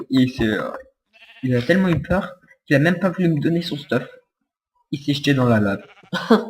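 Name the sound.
sheep bleating in Minecraft video game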